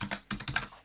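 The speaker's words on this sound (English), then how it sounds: "Let's keep on typing." Keys clattering on a computer keyboard while JavaScript code is written, a quick run of close, crisp taps in small bursts with brief pauses between them.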